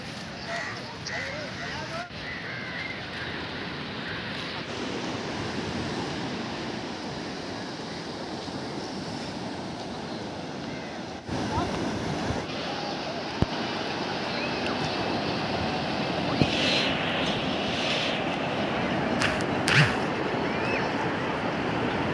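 Ocean surf rolls onto a beach at evening, a broad continuous wash of breaking waves with wind buffeting the microphone, and people talk faintly over it.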